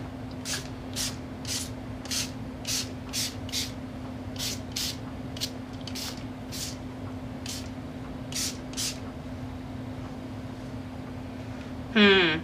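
Spray paint hisses onto an MDF frame in about fifteen short, evenly spaced bursts, with a steady low hum underneath and a brief louder rattle near the end.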